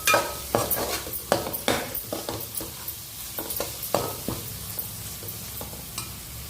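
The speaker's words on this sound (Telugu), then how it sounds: "పసుపు హాఫ్ టేబుల్ స్పూన్ ఇలా వేసుకున్నాక ఒకసారి తిప్పుకోవాలి" A spatula stirs turmeric into amaranth leaves frying in a pan, giving a series of sharp scraping strokes over a steady, close sizzle, with no talk.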